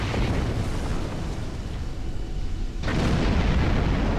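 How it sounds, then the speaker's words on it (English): A warp core explosion in the Star Trek Online space game: a sustained, loud roaring blast that dips briefly, then surges again near the end. "warp core explosion's not the most fun thing in the world"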